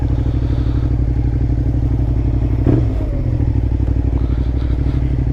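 A Suzuki SV650 motorcycle with about 14,000 miles, already warmed up, rumbles steadily close by as it pulls away, its low engine note constant with a brief clunk partway through.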